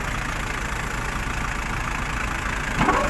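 A tractor engine idles steadily and fairly loud while the vehicle is stuck in mud, with a brief rise in level near the end.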